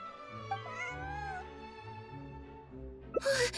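A cat in the video game Genshin Impact gives a drawn-out, wavering meow over soft background music, followed by a brief sharper cry and a burst of noise at the end.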